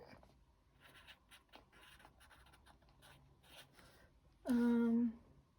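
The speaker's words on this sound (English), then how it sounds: "Maybe let's draw some squiggles, and then maybe over half of that I'll go over it again." Stabilo marker tip scratching squiggles across A5 notebook paper: soft, rapid, uneven scribbling strokes close up, ending in a brief louder scrape.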